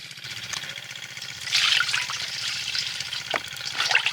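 Mussels are washed in turmeric water outdoors by a river, with soft sloshing, dribbling and splashing of water, a louder swirl in the middle and light drips toward the end, fairly close and quiet.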